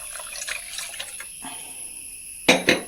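Water is poured into a bowl of blended beetroot and wheat-flour batter in a home kitchen. It makes a soft close trickle, with two sharp clinks of a vessel near the end.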